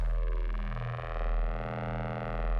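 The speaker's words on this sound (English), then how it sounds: "It's already a nice, eventful drone." A steady, dense synthesizer drone through a XAOC Devices Kamieniec analog resonant phase rotator, with a slowly swirling, phasing shimmer, sustained and loud with no gaps.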